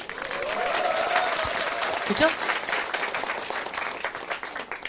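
Audience applause from a seminar crowd at a motivational talk, a steady wash of clapping that carries through the clip with a brief spoken remark from the speaker over it.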